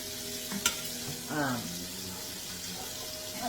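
Onions sizzle in a hot pan as they are stirred. The frying hiss is steady and close, with a few scraping clinks of the utensil.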